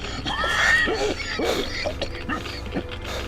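Rough, strained coughing and throat sounds from a man character in the video game Metro Exodus, several bursts mixed with creaking mechanical noise, close and fairly loud.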